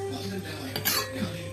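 Pots and pans clink and clatter briefly as they are scrubbed during dishwashing at a kitchen sink, close and sharp over a steady hum.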